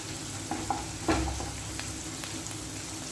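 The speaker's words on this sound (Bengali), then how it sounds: "একটুখানি ডিমটাকে ওর সাথে ভেজে নেবো।" Egg frying with chowmein in a nonstick wok gives a faint steady sizzle, broken by a few light spatula scrapes, one slightly louder, heard up close.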